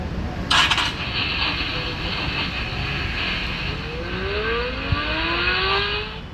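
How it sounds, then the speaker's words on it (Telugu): Cooling fans of a Nubia RedMagic 10 Pro phone spinning up, a high steady whir with rising and falling tones like a racing engine, fairly loud and close. "మనకి ఈ ఫ్యాన్స్ ఆన్ చేస్తే మనకు ఒక మంచి సౌండ్ అయితే వస్తుంది."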